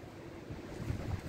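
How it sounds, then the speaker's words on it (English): Breezy wind gusting by a lake beside a walkway and bridge on a spring day, a steady low rumble of wind buffeting the microphone that swells slightly toward the end, with soft water wash beneath and no voices. "A little windy."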